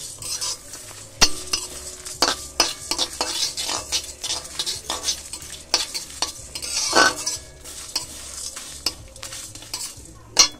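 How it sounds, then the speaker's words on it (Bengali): Spice masala for riyaji mutton fries in a pan, with a spatula scraping and stirring in quick, uneven strokes over a steady close sizzle. No one speaks. "একটু বেশি পুড়ে না যায় মশলাটা, সেইভাবে ভাজতে হবে"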